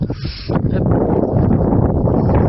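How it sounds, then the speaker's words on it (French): Strong wind buffets the microphone outdoors beside plowed farm fields, a loud continuous rumbling roar that persists throughout. "désolé pour le vent d'ailleurs."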